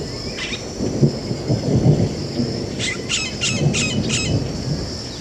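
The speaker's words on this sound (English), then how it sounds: "A distant rumble signals an end to the drought." Thunder rumbles low and distant over rainy forest during a drought's end, a soft rolling boom beneath steady rain with scattered bird calls and squawks on top.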